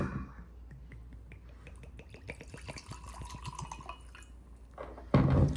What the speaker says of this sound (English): Light pour for tonight.